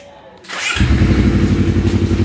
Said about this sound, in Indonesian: Baik, kita coba hidupkan sepeda motornya.